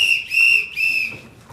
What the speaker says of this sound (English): A whistle. Bit theatrical,